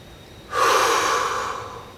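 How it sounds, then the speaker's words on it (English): A single person demonstrates a calming breathing exercise, a sudden audible breath drawn in sharply and held as a long airy rush that slowly fades, close and clear with no talk. "you're going to do a double inhale and then an exhale"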